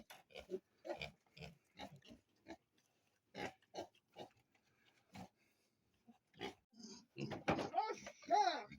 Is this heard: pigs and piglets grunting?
yes